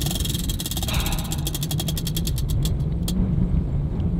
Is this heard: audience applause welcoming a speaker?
no